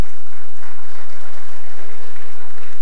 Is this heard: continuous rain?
no